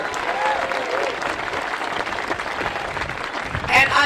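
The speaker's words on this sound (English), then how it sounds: "let's give another round of applause to Steve Beshear" A rally crowd in Fort Mitchell, Kentucky breaks into loud, sustained applause, mixed with some cheering and voices, continuing throughout before a brief louder burst near the end.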